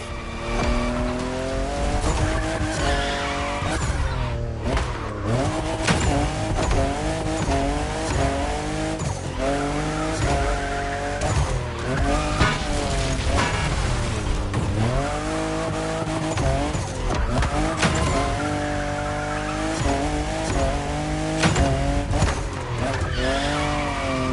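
Fifth-generation Toyota Supra racing in The Crew Motorfest on PS5, a loud sustained engine roar with rising and falling revs through gear changes and repeated tire squeals in corners, continuous and close without talk.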